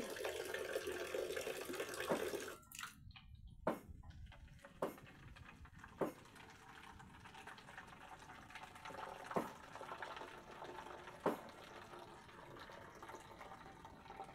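Water running out of a pipe fed by an RP75 ram pump in a rural village, a steady faint splashing stream with a few sharp knocks and clanks over it.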